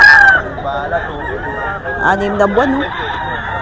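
Sinibalang stag roosters crow at a gamefowl sale, one crow rising clearly above a background of other birds and a voice speaking nearby.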